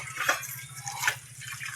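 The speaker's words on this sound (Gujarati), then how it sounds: "વાસણ સાફ કરવાનું હાલે છે।" Tap water runs steadily at a household sink during dishwashing, with a couple of brief splashy surges over a low hum.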